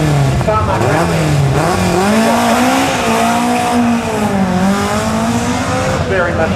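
A Ford Escort RS 1800 race car at a tarmac sprint event roars at full throttle with rising and falling engine pitch through gear changes, loud and sustained, with a voice talking over it.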